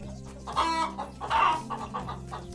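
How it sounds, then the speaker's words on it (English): A chicken clucks in a few rapid, moderately loud bursts, close by and alone with no talking. "Chicken."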